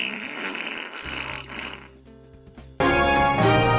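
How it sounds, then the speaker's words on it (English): A crude comic fart sound effect: a low, buzzy, droning tone that stretches out and then bursts into a loud, harsh blast at the end, with no talking over it. "fart."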